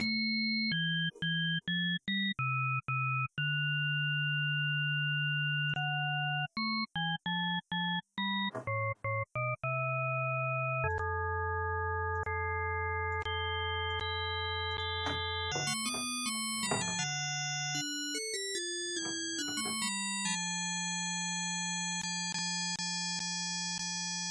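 Pure tones from the Serum synthesizer shift and stack in steps, added partials blending until they fuse into single sustained notes, some choppy stretches, then higher bright tones.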